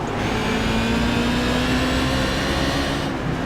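Modified race cars roar past on an oval track at Southern National Motorsports Park, their engines loud and sustained with a rising pitch for several seconds before easing off, and no voices are heard.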